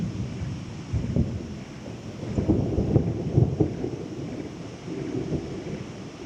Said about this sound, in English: then I hear loud thunder.